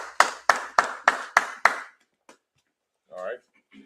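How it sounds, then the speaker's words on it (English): About six sharp, evenly spaced claps sound close and loud in quick succession at a church feast gathering, then stop abruptly, followed by brief quiet and a short voice. "Go ahead and clap it up for the brother."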